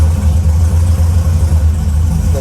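A car engine idles steadily with the AC running, its low rumble even and continuous, close and loud, slightly low idle with no voices.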